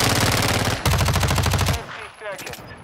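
Rapid automatic gunfire from a Call of Duty Modern Warfare 2 match fires in two dense close bursts, then fades into quieter game ambience with a faint voice.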